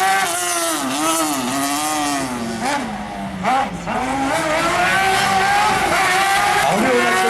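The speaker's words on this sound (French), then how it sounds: "C'est propulsé par un moteur moto. Un Mini Suzuki" A slalom race car powered by a Mini Suzuki motorcycle engine screams loudly and steadily, its pitch rising and falling through quick gear changes and throttle lifts, while a commentator talks over it.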